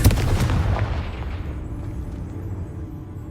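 A Confringo blasting curse in Hogwarts Legacy goes off with a sharp, loud explosion at the start, then a booming rumble that fades away over a few seconds.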